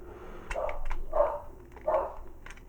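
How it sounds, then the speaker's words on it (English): Dogs bark in the background in three separated bursts, moderately loud against a quiet room. "dogs barking in the background."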